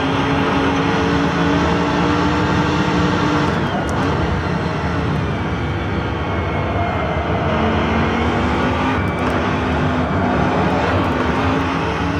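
Corvette Daytona Prototype race car in the Assetto Corsa game at Mugello, its engine roaring loud and continuous, pitch rising and falling through gear changes, with brief voice remarks over it.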